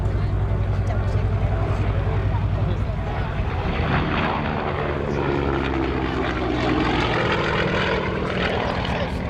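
A Yakovlev Yak-52 propeller aircraft flies past at an airshow, its loud droning radial engine and propeller sweeping in pitch as it passes, with people talking nearby.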